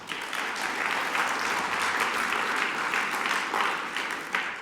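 Sustained audience applause fills the room after a presentation, a dense steady clatter of many hands clapping at an even level throughout with no voices over it.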